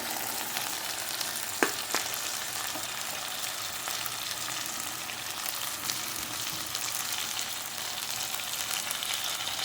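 Chicken and broccoli stir fry sizzles steadily in a pan, a continuous bright hiss with a couple of brief clinks early on and no talking.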